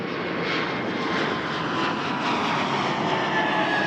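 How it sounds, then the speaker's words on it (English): Fixed-wing airliner taking off at Toronto Pearson Airport, a steady loud engine roar filling the whole stretch without letup, no voices. "I'm missing a takeoff because I was so busy"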